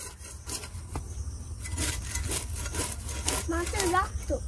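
A knife scrapes and cuts a shol (snakehead) fish in a home kitchen: soft, rough rasping strokes, faint and steady, with a voice speaking briefly near the end.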